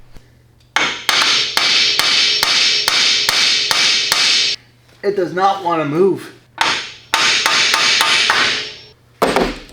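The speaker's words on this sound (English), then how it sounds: "So let's get the hammer in." Rapid, loud metallic hammer blows strike a Corvette control arm in a steady series, pause for a brief spoken remark, then resume with more repeated strikes.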